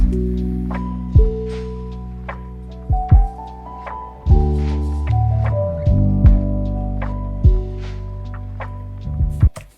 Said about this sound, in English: I've added hi-hats with some brush sounds from my pack